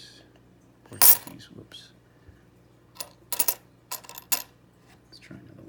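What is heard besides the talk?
old foreign coins clinking while being sorted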